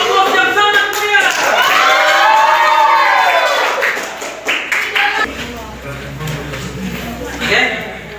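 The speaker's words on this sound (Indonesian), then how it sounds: "Beri aplaus yang sangat meriah" Audience applause at an Islamic religious education teacher performance assessment in Banjarmasin, with clapping and crowd noise that swells and then fades, while a speaker talks over it.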